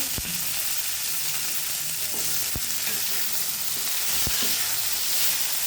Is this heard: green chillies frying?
yes